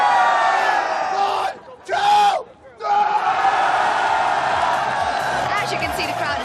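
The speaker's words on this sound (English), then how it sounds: "the crowd is absolutely hyped for a big day" A large crowd at an esports event yells and cheers loudly in bursts, with two short pauses in the roar, and a voice can be heard speaking amid the noise.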